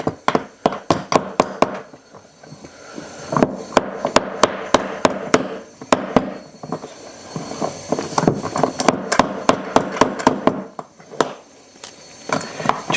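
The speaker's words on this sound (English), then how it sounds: "Take our hammer and just tap it till it's flush." A hammer repeatedly taps a wall anchor flush into the wall while a curtain rod is being installed, sharp close knocks in quick irregular bursts with short pauses between them.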